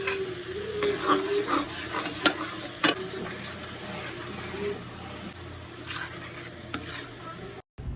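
Ginger and onion sautéing in melted butter, a steady sizzle under the repeated scrape and clack of a spoon stirring against the pan, with a faint background hum.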